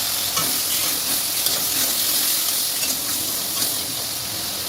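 Chopped onions hit hot oil and fry with a loud, dense sizzle and hiss, steady and close, with faint stirring taps underneath and no talking.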